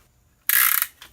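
A square key turns to tighten a cylinder liner tool, producing a single short, crisp burst of rapid ratcheting clicks up close, followed by a faint final click.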